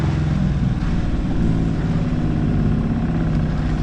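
A boat's inboard engine runs steadily just after starting, a loud, close, continuous low drone with a slight rough pulse. The sound holds at an even level and no one speaks over it.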